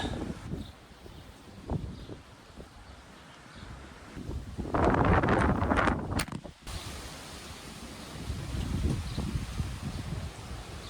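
Strong gusty wind outdoors buffeting the microphone, rising and falling in loud roaring surges with rustling debris, heard alone without talking.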